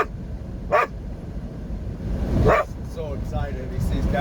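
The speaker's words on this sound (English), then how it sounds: "This dog is going ape shit right now." An excited dog barks at cows, two loud close yaps followed by a string of quicker higher yips and whimpers, over a steady low engine-like rumble.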